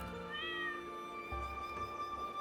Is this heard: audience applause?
no